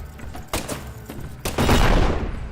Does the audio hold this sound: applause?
no